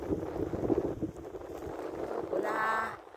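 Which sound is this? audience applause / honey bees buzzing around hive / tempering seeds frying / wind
wind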